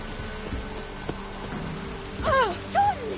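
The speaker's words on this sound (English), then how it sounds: "Rain." Steady rain pours throughout a scene in The Witcher 3: Wild Hunt, a constant close hiss with some brief tonal, voice-like sounds rising over it near the end.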